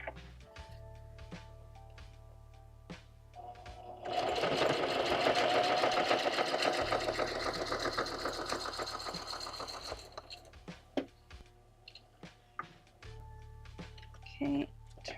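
Sewing machine stitching through art paper for a junk journal: a steady mechanical whirring run of about six seconds, close and moderately loud, framed by scattered clicks and taps before and after.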